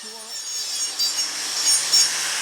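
A grinder levels the large claw of a cow's hoof during trimming, a steady, fairly quiet abrasive whir with slight swells in pressure throughout.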